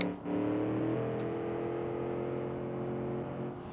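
A V8 car engine in a video game revs up and holds a steady, harmonic drone, with a slight pitch rise early on before easing off near the end.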